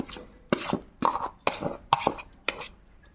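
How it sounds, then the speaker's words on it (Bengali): Dry semolina, flour and rice flour stirred together in a bowl for patishapta pithe, giving six rhythmic scraping, rasping strokes roughly every half second, close and moderately loud with no talking. "এবারে শুকনো উপকরণগুলো ভালো করে মিশিয়ে নেব।"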